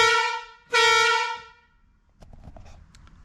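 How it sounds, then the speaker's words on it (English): Two loud blasts of an aftermarket truck air horn mounted in the bumper of a Ram 1500 EcoDiesel pickup, the second longer, followed by quiet mechanical rustling. "So anyways, there's the air horn."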